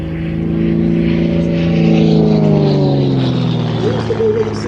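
A Game Composites aerobatic propeller plane performing stunts at an air show: a loud sustained engine drone with a propeller whine that shifts pitch as the aircraft maneuvers, heard steadily throughout without a break.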